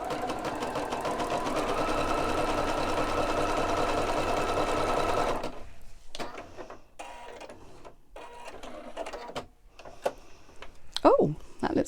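A sewing machine runs a zigzag stitch with twin needles, a fast steady mechanical whir and rapid needle chatter for about five seconds, then stops, followed by scattered handling clicks and fabric rustle.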